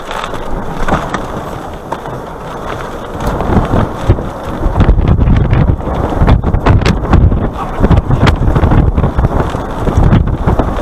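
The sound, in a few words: strong wind near tornado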